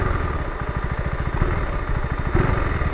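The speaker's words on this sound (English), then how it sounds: "Click it into first gear, pull the clutch in, give it a few revs." A KTM 390 Adventure R single-cylinder motorcycle engine runs close by in first gear with the clutch pulled in, its rapid firing pulses steady and loud, with a couple of brief swells in revs.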